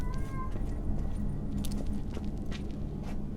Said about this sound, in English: My cat meowing in the background for some reason.